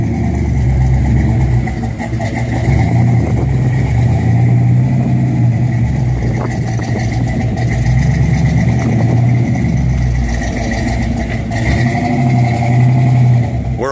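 A 1961 Chevy Impala SS with a 409 big block V8 and four-speed rumbles loudly and close, its deep idle swelling into repeated throttle blips and revs over roughly fourteen seconds, with no talk.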